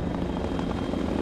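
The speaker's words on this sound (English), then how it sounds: "Look at that! A chopper!" A helicopter in The Walking Dead: Survival Instinct video game gives a steady, dense rotor and engine drone. It holds even and fairly loud throughout with no pauses and no speech.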